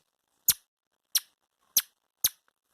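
A person imitating a sparrow with a small plastic strip pressed to the upper lip, four short, sharp, evenly spaced chirps, close and clear against silence.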